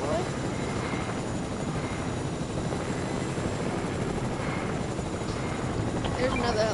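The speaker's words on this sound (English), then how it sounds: "Oh, I hear another helicopter." A helicopter in the video game Fortnite drones continuously with a steady whirring rotor and engine roar, fairly loud and close, with a voice talking over it at times.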